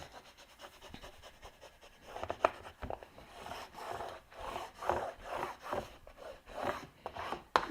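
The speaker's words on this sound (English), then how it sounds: "Let's get some burnishing action going" Tape is burnished down onto file folder cardstock by hand, giving soft, rhythmic rubbing strokes that swell and fade in repeated close passes, quiet and without speech.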